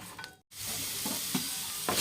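Tomatoes lightly frying in a pan for chicken curry, a continuous close sizzle with stirring scrapes, broken by one brief silent gap near the start.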